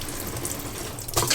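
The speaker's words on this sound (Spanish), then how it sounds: "voy a abrir la válvula de la agua caliente" Hot water tap opened in a motorhome, with steady water running and hissing through the short clip, growing louder and splashier near the end.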